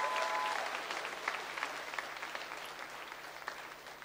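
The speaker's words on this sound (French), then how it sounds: "Honorons-le encore, s'il vous plaît, par nos acclamations" A church congregation applauds at a Sunday service with dense, sustained clapping that fills the whole stretch and slowly eases, close and lively with a faint background tone.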